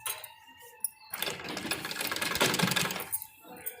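A sewing machine runs a half-inch seam along the neck of a child's frock in one continuous, close burst of about two seconds, with softer handling sounds before and after.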